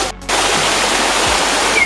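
Water gushes loudly at Tada Falls, a dense, steady hissing roar that starts after a brief quieter moment and continues close up.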